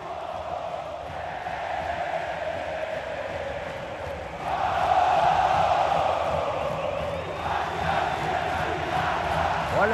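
Vasco football supporters chant in a stadium during Vasco x Água Santa, a steady roar of massed voices that swells louder midway and holds, distant and reverberant, with no single voice standing out.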